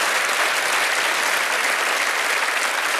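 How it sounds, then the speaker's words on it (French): A French television studio audience on a variety show claps in dense, sustained applause for a guest, loud and continuous throughout with no gaps. "Applaudissements pour Madame Moreau."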